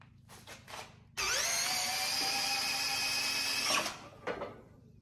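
A van's supercharger spun up by hand with the belt routed around the alternator gives a loud, steady high whine that starts abruptly, holds for about three seconds, then cuts off into a few rattling knocks.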